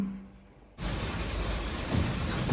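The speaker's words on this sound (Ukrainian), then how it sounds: "сьогодні зранку у нас ось такий дощ. Так, прям він гарно шелестить і хочеться під нього спати." Morning rain outside: after a brief quiet moment, a steady, full hiss of rainfall cuts in abruptly and continues evenly, close and rustling, with no voices.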